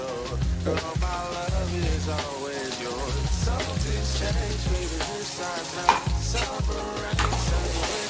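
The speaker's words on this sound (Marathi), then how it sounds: "हे थोडंसं परतून घेत आहे" Chopped onion and a coarse ground paste sautéed in a hot pan, with a continuous sizzle and repeated scrapes and stirs of a spatula. Music plays loudly underneath.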